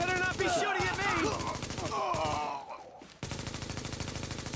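Video game gunfire in The Division plays as rapid bursts of shots layered under someone shouting and talking excitedly, then the automatic fire continues steadily alone near the end.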